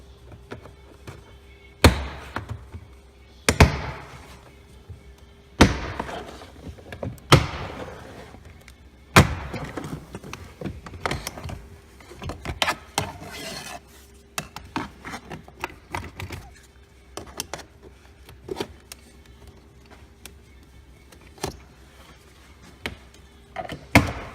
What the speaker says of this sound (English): it should just be some pop clips to snap this thing off